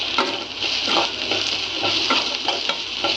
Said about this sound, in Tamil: இந்த ஸ்டேஜில் வெங்காயத்தை நல்லா வதக்கிக்கணும்.